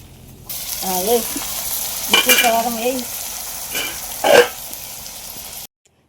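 Dried fish curry being stirred lightly with a wooden spatula in a pan, a soft continuous sizzle with a few brief scraping strokes and some harmonic tonal sounds over it, close and moderately loud before cutting off.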